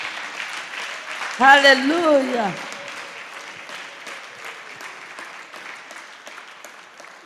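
A congregation applauding during a church gathering: steady, sustained clapping that fades slowly, with a single voice calling out briefly near the start.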